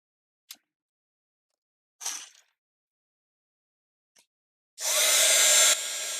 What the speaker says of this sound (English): Let's get our heat gun out.